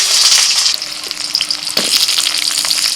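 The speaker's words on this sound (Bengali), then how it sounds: "প্রথমে আলুটা ভেজে নিচ্ছি।" Potatoes frying in a pan for a village-style jackfruit curry give a loud, steady, crackling sizzle that runs the whole way through, with small bursts of spattering and no voices.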